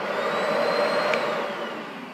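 A Matrix SV8 steam vacuum cleaner runs on its vacuum setting, giving a steady, fairly loud motor whir with a high whine that holds evenly from start to finish, with no voices.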